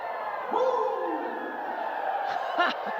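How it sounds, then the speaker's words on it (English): Basketball crowd at a Fever versus Aces women's pro game in a Las Vegas arena: a steady roar of fans cheering and whooping, with a few louder shouts toward the end. "Oh, the fans here are having some fun."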